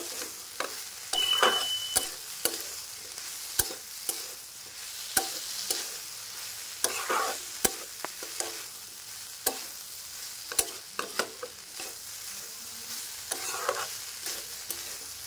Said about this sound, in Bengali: মশলাটা একটু কষুক।